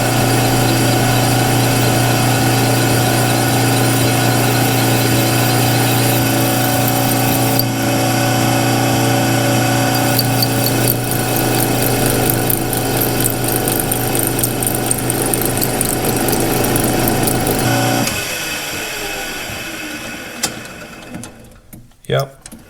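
A lathe or mill cuts through the splines of a steel flywheel hub in a continuous loud machining drone with squealing, chattering tones and jammed chips, then the cut eases off and fades near the end.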